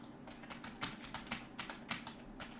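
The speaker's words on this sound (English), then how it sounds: "And now let's listen to the keyboard." Keys on a computer keyboard clack in a quick, irregular run of taps, faint and close, recorded through a Fifine K678 microphone with a soft background hum.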